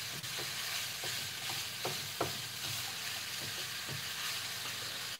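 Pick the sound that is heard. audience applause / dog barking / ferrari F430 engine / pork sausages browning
pork sausages browning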